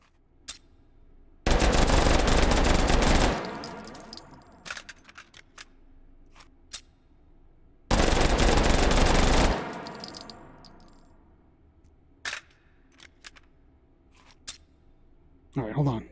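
Automatic gunfire in the VR shooter Hot Dogs, Horseshoes & Hand Grenades: two loud, sustained bursts of rapid fire, each about two seconds, with scattered clicks and clatter of handling between and after them.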